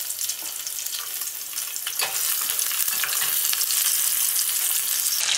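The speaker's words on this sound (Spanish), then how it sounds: "Aquí tengo 3 cucharadas de aceite y le voy a echar la cebolla y el ajo." Onion and garlic frying in three spoonfuls of oil, a loud, dense, close sizzle that swells slightly and holds steady to the end with no voices.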